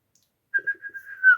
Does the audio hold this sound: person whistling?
yes